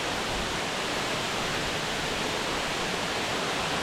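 Steady, dense roar of a waterfall pouring into a pristine Australian swimming hole, a constant broadband rush that holds even and unbroken throughout.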